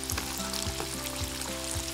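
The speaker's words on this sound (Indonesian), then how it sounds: "Dan masa mula goreng, jangan kacau." Battered banana fritters (pisang goreng) frying in hot oil, a steady close sizzle and crackle with faint periodic bubbling pops, no voices.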